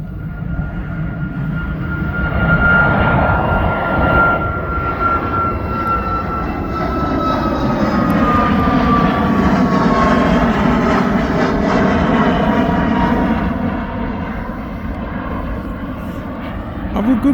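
Aircraft engine noise at East Midlands Airport, a steady loud roar with a rising whine that swells and fades across the whole stretch, with some talk mixed in.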